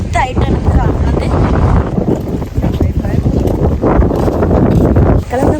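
Strong wind at a seaside beach buffets the microphone in loud, rumbling gusts that never let up, with voices partly buried beneath the roar.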